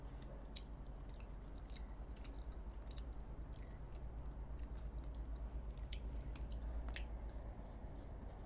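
Close, quiet chewing and biting while eating mutton chaap, soft wet squishes with scattered crisp clicks over a steady low background.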